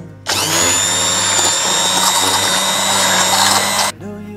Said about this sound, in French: Je donne un coup de mixeur plongeant pour homogénéiser mon mielé, mais surtout pour mixer mes cerises.